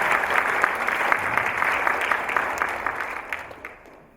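Sustained applause from a lecture-concert audience, a dense, steady wash of many hands that holds loud for several seconds and then tapers off near the end.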